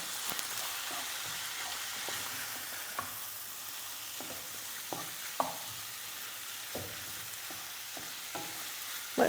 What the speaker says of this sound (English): Let this cook away until the meat starts to brown.